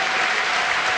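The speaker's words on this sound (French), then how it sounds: "la chorale des supporters est applaudie à son tour" A stadium crowd at a 1997 Section Paloise versus Bègles rugby match applauds the supporters' choir, a dense, steady wash of clapping filling the whole second without a break.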